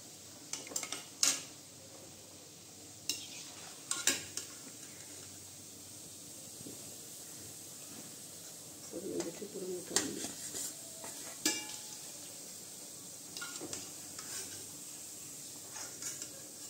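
Gulab jamun balls are stirred in hot oil in a home kitchen, a soft continuous sizzle and hiss under intermittent scrapes and clinks of a spoon against the pan, fairly close and quiet, with no talk.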